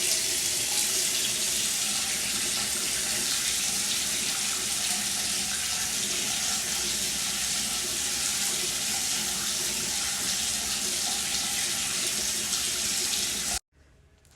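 Hot water gushes steadily from a house tap into a sink, a loud, continuous broadband rush that cuts off abruptly just before the end.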